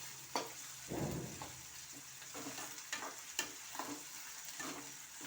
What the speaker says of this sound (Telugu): ఇదిగోండి టమాటా మగ్గుతుంది ఇలా తిప్పుతూ ఉండాలి ఇదిగోండి అల్లం వెల్లి పేస్ట్ వేస్తున్నాను